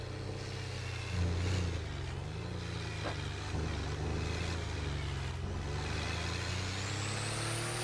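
A truck manoeuvres in a video game roleplay server, its engine droning steadily with low rumble, small revs and a brief air-brake-like hiss, fairly quiet and continuous.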